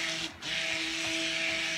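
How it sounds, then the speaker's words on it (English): A stick blender runs steadily in a pot, blending fragrance oil into soap batter. The electric whir is loud and constant, with a brief dip near the start and no talking. "Now I've already got the stick blender in here."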